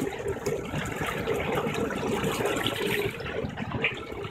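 Electric outboard propeller on a Gemini 105m catamaran sits a little too high and sucks in air, churning and bubbling water in a steady, loud, close wash with no pauses.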